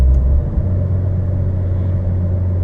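A heavy haul truck's engine rumbles low and steady as revs fall during a downshift into third gear, a deep, close drone with a slight change in tone early on.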